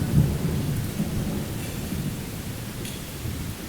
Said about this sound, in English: it's starting to rain heavily, and the wind is up